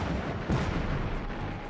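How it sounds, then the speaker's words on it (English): A V-1 flying bomb's pulse-jet engine roars in a dense, continuous low rumble with faint rapid pulsing, loud and steady for the whole brief stretch. "The pulsing series of explosions gave the V-1 rocket several nicknames"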